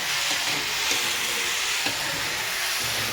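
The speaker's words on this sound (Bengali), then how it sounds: "আর এদিকে তাকে আলু ভাজা হচ্ছে।" Potatoes frying in a pan make a dense, even sizzle throughout, close and steady with occasional faint crackles and no talking over it.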